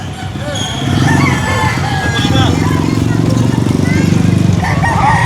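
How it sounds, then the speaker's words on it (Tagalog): A rooster crows loud and close on a village street in a Philippine barangay, with chickens nearby and a drawn-out, repeated call over street background noise. "andyan pa rin yung mga manok."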